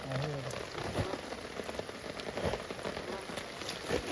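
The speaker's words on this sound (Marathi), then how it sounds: "इतना पाऊस लगा इतना पाऊस लगा" Heavy rain in a rural village during the first rains of the season, a dense, steady patter on nearby surfaces that stays even throughout, with a brief voice at the start.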